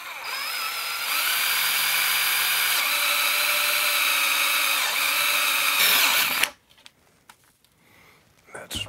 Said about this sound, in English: the rest is going to be done with a step drill